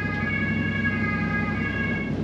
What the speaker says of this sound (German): Oh, selbst der Krankenwagen muss jetzt warten, wegen uns.